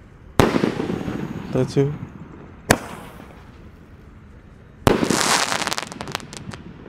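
Three sharp Roman candle shots go off, each a loud crack followed by crackling fizz, with the last burst sizzling on at length; a man counts aloud in between.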